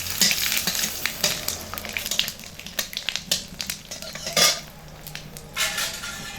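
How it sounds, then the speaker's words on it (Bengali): Whole cumin seeds and bay leaves frying in hot mustard oil, a steady sizzle broken by a spoon stirring and clinking against the pan, close and loud. "তেলের মধ্যে গোটা জিরে আর তেজপাতা ফোড়ন দিয়ে দিচ্ছি।"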